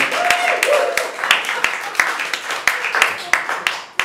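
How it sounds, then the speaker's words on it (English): An audience at a comedy roast gives a round of applause, scattered claps rising and thinning over a few seconds as a voice carries on over them. "for a big round of applause"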